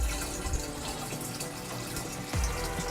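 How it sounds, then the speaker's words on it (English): Dirty brown water splashes and sloshes as it is scooped out of a hand-dug hole, a steady close watery churn with a few heavier splashes and no talking. "now we're just getting this dirty water out of the hole that we dug"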